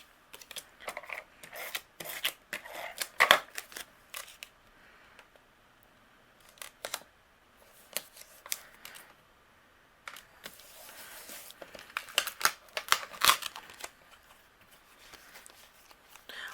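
A tape runner sticking small paper pieces onto a greeting card, with close, quiet rolling clicks and rubs, paper rustles and brief taps in scattered bursts separated by near-silent pauses.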